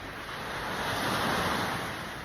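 Sea waves wash in a steady, broad roar of surf, with wind noise on the microphone and no voices.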